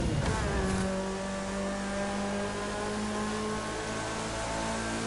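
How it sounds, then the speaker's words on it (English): A single car engine in The Crew 2, a Honda S2000, surges with a sharp rush at the nitro boost, then holds a steady high whine that stays loud and close. "here I go to go faster and bring out the nitro to keep it up"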